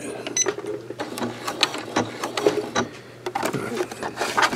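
A sewing machine works a decorative stitch around a coiled rope bowl, giving a loud, close, uneven clatter of rapid mechanical ticks and bursts with brief pauses, no voices.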